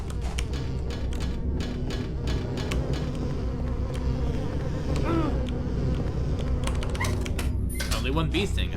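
Bees buzzing inside Silent Hill 4, a steady insect drone filling the scene, with a few brief rising tones breaking through near the end.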